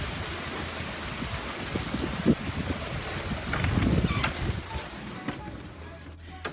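Heavy rain during a thunderstorm in a backyard, a dense steady hiss of downpour with splashing drops and occasional low rumbles, loud and close throughout, with a person talking over it at times.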